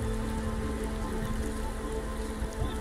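Steady rain falling hard on surfaces at a river crossing in Papua New Guinea, a dense continuous hiss with no talk.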